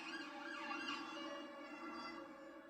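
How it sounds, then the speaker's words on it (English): A police car siren passes outside an apartment in a busy city neighborhood, a steady wailing tone with layered harmonics that holds loud and continuous for a few seconds, with no talking over it. "Sorry if you hear a police car."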